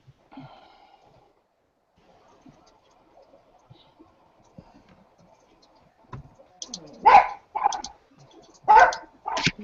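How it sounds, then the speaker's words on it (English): A small dog barks in a room, a few faint sounds and quiet clicks at first, then two loud close bursts of sharp yapping near the end. "I got this little crap dog over here that won't shut up."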